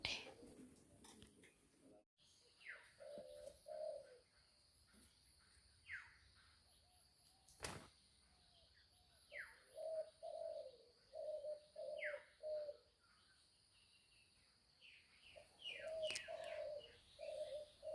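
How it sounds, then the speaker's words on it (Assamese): A dove perched on a tree branch coos in a repeated rhythmic series of soft low calls, fairly near, with other birds chirping faintly around it in a quiet outdoor setting. "কপৌ চৰাইজনী কিনো দুখত বিনাই আছে গছৰ ডালত পৰি"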